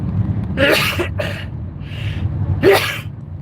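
A single sharp sneeze bursts out over low background hum, followed by a quick breath and a second short sneeze-like burst.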